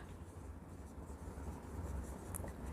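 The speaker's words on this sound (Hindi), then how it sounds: "तो हम यहां पर लिखेंगे मोहन न्यू शेयर" A pen scratches softly and continuously across paper during an accounts lesson, faint and close, with no speech.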